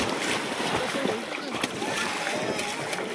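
Splashing water at a swimming pool where a child is jumping in, with continuous sloshing and a few sharper splashes under nearby voices and general poolside noise.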